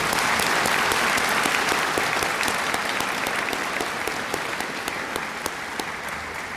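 Graduation audience gives a full round of applause, many hands clapping at once, loud and sustained before tapering slightly.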